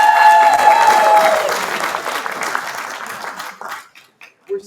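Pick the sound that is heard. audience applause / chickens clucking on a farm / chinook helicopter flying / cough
audience applause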